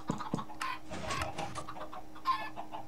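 Chickens in a Minecraft automated chicken farm built with pistons and lava, giving several soft, scattered clucks and squawks over a busy game background at moderate volume.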